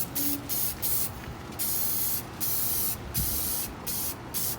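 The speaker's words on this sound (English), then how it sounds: "Spray about 6 inches away." Short, sharp bursts of aerosol spray paint hiss close by as it is sprayed onto waterslide decals outdoors in wind, each burst separated by brief pauses.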